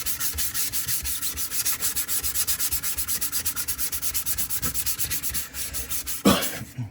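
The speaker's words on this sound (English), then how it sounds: "Just sanding it with these, basically sheetrock sanders." Rhythmic back-and-forth sanding of filler on a 3D-printed mask with a foam drywall sanding block, about two strokes per second, close and steady, ending with a brief louder scrape.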